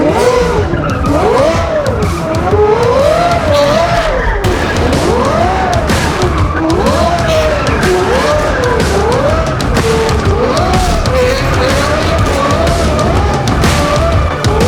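A race car sliding on the track in a billionaires' race, tires squealing in repeated wavering bursts over a loud continuous engine roar, close and intense throughout.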